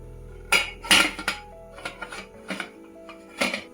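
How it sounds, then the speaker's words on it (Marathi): A pressure cooker vessel is set inside and the lid is closed tight, giving a series of sharp metallic clanks and clinks, loud and close, spaced irregularly with quiet gaps. "आता हे कुकरचं भांडं मी याच्यामध्ये ठेवते आणि याच्यावर आपल्याला घट्ट झाकण लावायचं आहे"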